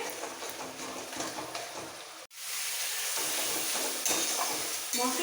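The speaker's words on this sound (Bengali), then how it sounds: "সমস্ত মশলা দেওয়ার পর কষিয়ে নিতে হবে" Ground spices and cumin powder frying in oil in a pan, a constant close sizzle with scraping stirs; the sound cuts out briefly midway, then resumes more strongly with occasional louder crackles.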